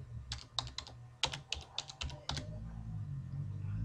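Quick, irregular keystrokes clatter on a computer keyboard at close range, forming a short burst of clicks that then falls to a low background hum.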